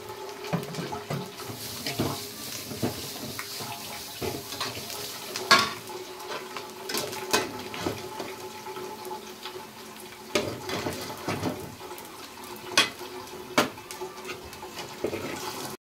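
Beetroot thoran stir-fries in a pan, a soft sizzle running underneath while a spoon scrapes and taps against the metal in irregular strokes.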